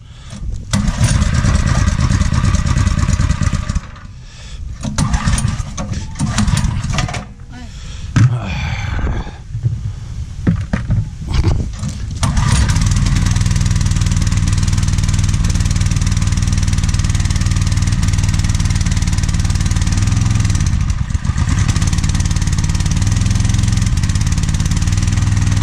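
A gas-powered pressure washer engine catches and starts up, sputtering through the first seconds before settling into a loud, steady idle that runs alone and unbroken to the end.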